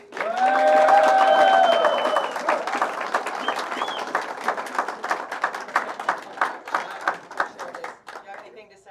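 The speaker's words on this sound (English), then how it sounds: "give a huge round of applause to Justin Martin" Crowd at a billiards match applauding pool player Justin Martin, opening with cheers and voices, then settling into steady clapping that slowly thins out, moderately close.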